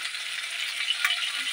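Vegetables for a restaurant-style chicken dish frying in a pan, a steady bright sizzle that holds level throughout with a faint clink partway, no voices.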